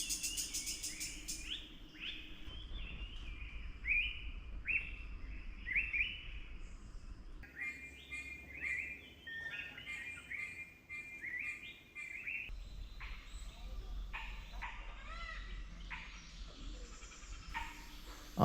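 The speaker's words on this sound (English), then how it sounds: "The next day morning was usual, with a lot of bird calls," Morning birdsong at a forest nature camp: several birds chirp and whistle in repeated short phrases, some close and clear, others distant, over a soft steady ambient hiss.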